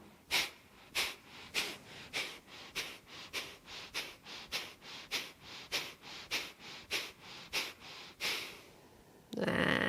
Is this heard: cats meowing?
no